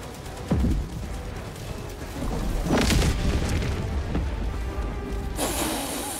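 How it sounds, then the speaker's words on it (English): Orbital strike explosions in Helldivers 2 during a fight against Automatons: several heavy booms in succession, a sharp hit followed by rolling blasts and rumbling debris, loud and close. "Firing orbital strike."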